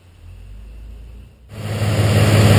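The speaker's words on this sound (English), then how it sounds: "got the truck fired up" A Dodge Ram truck, just given an ECM reflash, sits quietly before its engine cranks and catches abruptly, then settles into a loud, steady idle close by.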